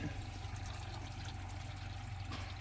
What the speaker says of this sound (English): We've got water flowing through the unit.